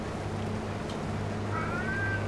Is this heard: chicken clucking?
no